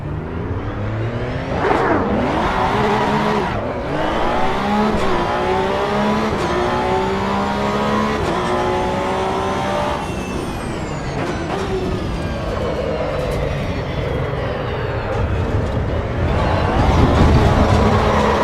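Racing video game car engine revving continuously, pitch sweeping up and down through gear changes, loud and steady for the whole stretch with no talking.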